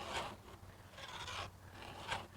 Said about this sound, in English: I was able to sharpen my chain and make sure that it was correct